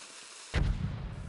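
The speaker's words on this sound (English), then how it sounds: "Sets off a black smoke explosion." Black TNT from a Minecraft TNT mod detonates in a single sudden, loud blast with a heavy low-end roar that lingers after a quiet lead-in.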